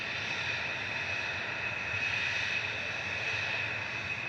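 A TUI airliner bound for Girona is heard at Manchester Airport as a fairly faint, steady jet hum with a whining tone, distant and continuous with no voices.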